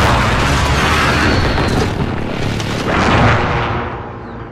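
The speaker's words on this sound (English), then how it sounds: "Enemy precision airstrike inbound." Precision airstrike explosions in Call of Duty Modern Warfare multiplayer form a loud, sustained wall of booming blasts and rumbling detonations that roll on without a break before thinning out near the end.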